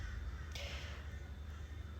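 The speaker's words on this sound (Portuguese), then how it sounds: "vocês com certeza estão ouvindo ao fundo os passarinhos, os corvos aqui gritando" Crows cawing outdoors on an island, faint and distant, with a few harsh calls over quiet background ambience and no speech.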